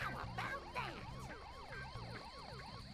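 A police car siren from The Simpsons: Hit & Run wails in rapid repeating yelps over steady engine drone, fairly loud and continuous.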